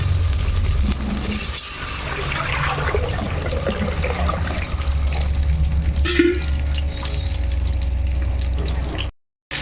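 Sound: water poured into pot for chicken biryani

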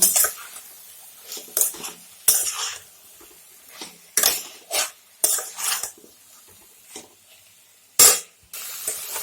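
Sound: stirring spices into vegetables in a pan

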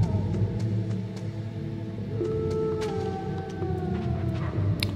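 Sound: dog howling in the video game Metal Gear Solid

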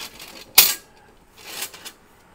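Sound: metal Woodgaz wood stove being folded up

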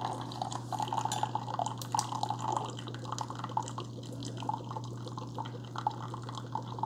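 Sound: Keurig K-Supreme Plus coffee maker brewing

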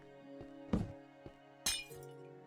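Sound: glass breaking in Granny Minecraft mod video game

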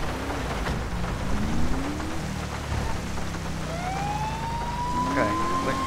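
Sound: police car siren in a video game

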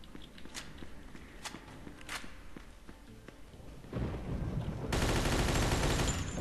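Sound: gunshots in Mafia 2 video game

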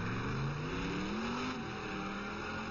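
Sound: Ford GT race car exiting the pits

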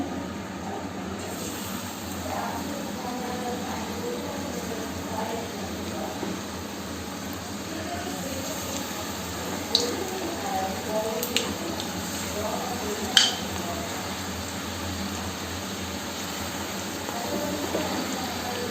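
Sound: onion fritters (piyaji) frying in hot white oil

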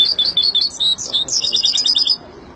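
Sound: European goldfinch singing

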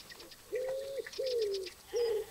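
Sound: common wood pigeon cooing in the video game Alba

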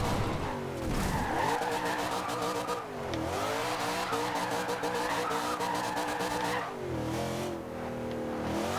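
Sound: Camaro Z/28 drifting with tire squeal, video game Forza Horizon 2

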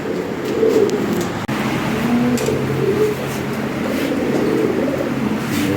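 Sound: Lahori Sirazi pigeons cooing

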